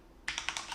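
Quick burst of computer keyboard typing, about five close, crisp keystrokes in under a second while creating a new folder, with no voices.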